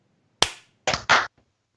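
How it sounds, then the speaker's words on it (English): Sharp hand claps for syncing podcast recordings: one crisp clap followed by two more in quick succession, close and distinct against silence. "Let's do a clap."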